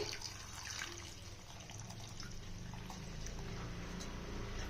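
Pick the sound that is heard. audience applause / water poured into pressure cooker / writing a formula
water poured into pressure cooker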